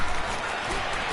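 Home stadium crowd cheering in an American football video game, a dense, steady roar of applause and crowd noise filling the whole short moment.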